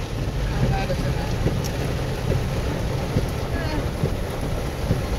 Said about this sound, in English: Wind's not so bad, right?